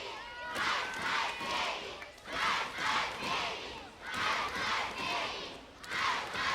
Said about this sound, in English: she's got the crowd behind her. They're going Ice, Ice, baby